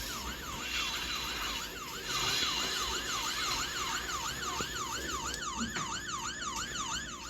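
Police car siren in the Roblox video game, a steady rising and falling wail that repeats continuously and loudly for the whole stretch, with a faster yelping pattern joining near the end.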